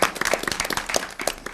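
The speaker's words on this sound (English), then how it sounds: "Let's give a hand clap to that." Applause and hand clapping from an audience at a school board business meeting, a dense burst of many claps lasting under two seconds with no talking.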